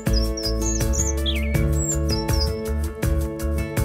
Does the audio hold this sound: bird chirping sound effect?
yes